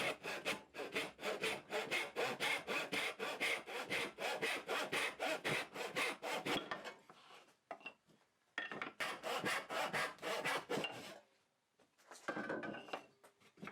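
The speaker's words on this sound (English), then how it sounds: "I then use a tenon saw to cut the wood into 3 pieces." A tenon saw cutting through wood, with fast regular back-and-forth rasping strokes close by, a short pause mid-way, then another burst of sawing before it stops.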